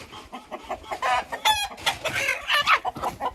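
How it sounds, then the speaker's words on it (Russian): Several roosters crowing over one another amid busy clucking, a noisy, close flock with overlapping calls throughout. "Это очень много петухов."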